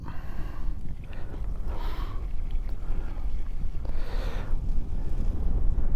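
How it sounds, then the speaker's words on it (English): Strong wind outdoors on a motorbike trip in Morocco, a loud constant roar buffeting the microphone, swelling in gusts, with no talking. "The wind is picking up."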